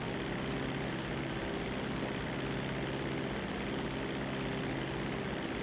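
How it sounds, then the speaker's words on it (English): Seaplane flying in a video game, a steady, dense propeller engine drone that stays loud and unchanging throughout, with no talk over it. "I just fly the plane."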